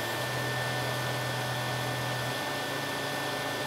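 A RigidBot 3D printer fitted with a 405nm laser cutter attachment cuts through paper and cardboard, giving a steady broadband whir with a constant high whine and a low motor hum that drops out partway through.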